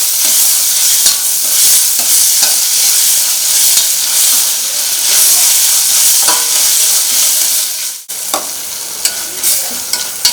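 Shallots and tomato sizzle steadily in a hot pan, loud and close, with a spoon scraping and stirring through them in repeated strokes and a brief pause near the end.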